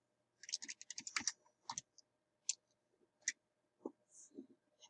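Clicky keystrokes on a computer keyboard as a room number is entered, a quick burst of taps followed by a few sparse, separate presses, close and quiet with no talking.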